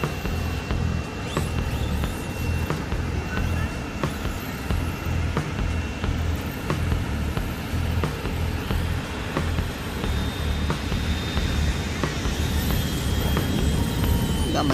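Wltoys 124019 RC car running on a beach, its small electric motor giving a steady, continuous whir with broadband rumble throughout, loud and close.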